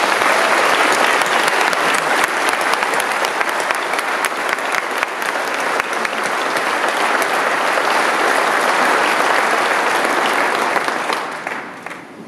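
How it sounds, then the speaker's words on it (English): Sustained, loud applause from a large audience honoring IAFC board members at a fire chiefs' presidential acceptance ceremony, dense clapping throughout that fades slightly at the end. "let's offer another round of applause to your IAFC board members"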